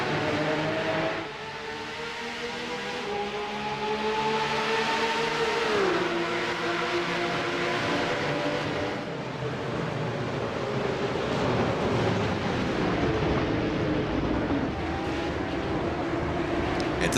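Engines of race cars at the start of a Le Mans round in an online racing video game league, a dense, steady multi-car roar with rising and falling revs throughout, no talking.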